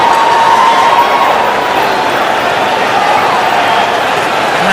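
A dense cricket stadium crowd roars and cheers continuously after a run of sixes from Yuvraj, a loud, sustained wash of voices with scattered shouts and clapping, steady throughout with no pause.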